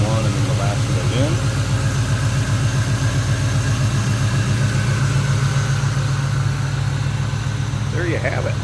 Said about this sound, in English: Nice smooth, nice sounding engine.